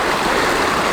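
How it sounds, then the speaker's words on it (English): A creek in a fern- and moss-filled rainforest flows with a loud, steady rushing hiss of water, continuous and close, with no voices over it. "Down there's the creek."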